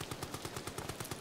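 Rapid gunfire from the video game Amnesia: The Bunker, a steady rhythmic burst of about ten loud, close shots in quick succession with no talk over it.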